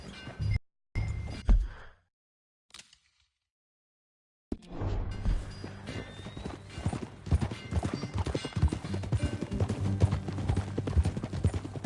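Horse hooves clip-clop steadily while riding at a ranch in the video game Red Dead Redemption, a brisk rhythmic gait at moderate volume after a short silent break.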